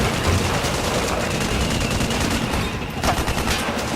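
Dense gunfire rattles continuously as a tank arrives in a Metal Gear Solid 4 cutscene, loud bursts layered over a thick noisy battle roar.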